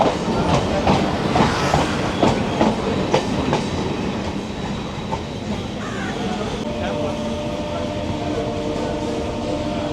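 A Kolkata circular railway local train rolls past near the Ganges with a loud, continuous rumble and rhythmic clattering of wheels that fades slightly toward the end; a voice is faintly audible.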